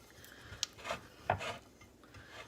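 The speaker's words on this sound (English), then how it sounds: "I'm gonna butter my dish with it" Butter is rubbed around the sides and bottom of a baking dish, giving soft, intermittent scraping and smearing strokes, a few slightly louder swipes close by, with quiet pauses between them and no talking.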